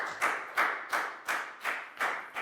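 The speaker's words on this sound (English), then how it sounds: "High five and a big round of applause for Dan, please, guys" Children in an English class clap together in a steady, even rhythm, about seven crisp claps spaced evenly, fairly close and moderately loud with no talking.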